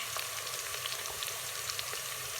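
Ginger garlic paste frying in a pan for aloo gosht, a continuous soft, even sizzle with faint bubbling pops, steady and close, with no voices.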